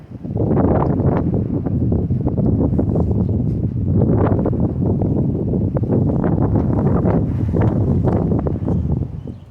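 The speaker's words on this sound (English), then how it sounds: "A little bit windy today." Strong, continuous wind buffeting the microphone outdoors, loud and gusty throughout with a rough, rumbling texture.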